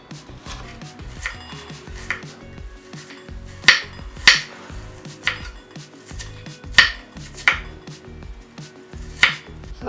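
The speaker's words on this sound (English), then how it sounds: "Next, I'm going to cut the onion. I like to do my onion a little thin." A knife slices an onion thinly on a cutting board, giving crisp, uneven chopping taps with several sharper knocks, close and clear with no talking.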